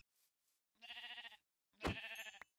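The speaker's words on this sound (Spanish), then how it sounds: "Vamos a matar estas ovejitas de aquí." Sheep in the video game Minecraft bleat twice, each a clear, buzzy, wavering call of about half a second, close and alone after a couple of faint earlier sounds.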